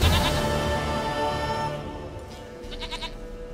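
A goat in The Witcher 3 bleats loudly and close, a long wavering cry that fades away, followed by a few softer bleats near the end over quiet game ambience.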